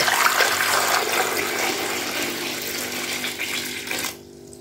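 Tap water runs steadily over guavas being washed, a broad continuous splashing rush that stops abruptly near the end, with no talking.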